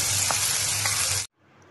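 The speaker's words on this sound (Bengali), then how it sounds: "একটু ভাজা ভাজা হলে তুলে নেব।" Pabda fish frying in hot oil, a dense steady sizzle with faint crackles for about a second before cutting off abruptly, close and alone.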